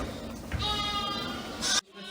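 An Assaf lamb bleats loudly and close during feeding from a milk machine, one long sustained cry that cuts off abruptly.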